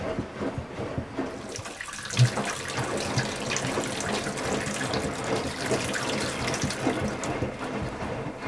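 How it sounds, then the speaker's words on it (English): Miele washing machine filling with water at the start of a 95-degree cycle, a steady rushing flow with faint mechanical clicks and one brief knock, close and continuous. "I'll leave the Miele to run through that full 95-degree"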